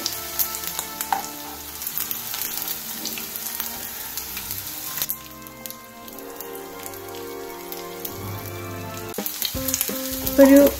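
Leftover rice cutlet frying in a pan of oil gives a steady crackling sizzle, with a few sharper pops and scrapes as it is moved, under quiet background music with no talk.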